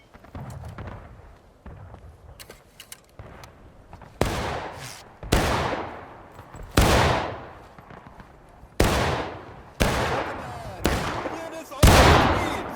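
Heavy booming cannon and musket volleys in the game War of Rights go off one after another at irregular intervals, loud and echoing, with faint voices and battle noise between them.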